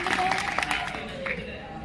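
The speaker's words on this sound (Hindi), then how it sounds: "तालियां।" An audience at a National Girl Child Day celebration gives a short burst of clapping, moderately loud and ending after about a second.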